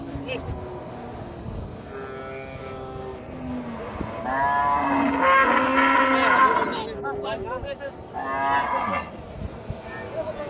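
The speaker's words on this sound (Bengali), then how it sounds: "এই যে বড় একটা ডাবল ফ্রেমের হাডিসার গরু" A bony local-breed cow at a rural cattle market in Singra, Natore lets out long, loud, droning moos, one swelling into a strong bellow mid-clip, with market chatter and background voices around it.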